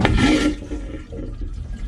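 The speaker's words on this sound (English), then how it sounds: "there's a vacuum pressure under there that sucks the water away when you flush" A VacuFlush vacuum toilet on a boat flushes with a loud sucking whoosh of water that ends sharply after about half a second, followed by a quieter hiss and rumble.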